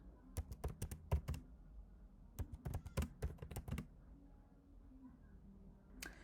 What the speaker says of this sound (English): Let me just type one thing.